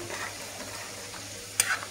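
Local chicken curry with long pepper, nearly boiled dry, is stirred in a pot: a quiet, steady bubbling hiss with one sharp scrape of the spoon near the end.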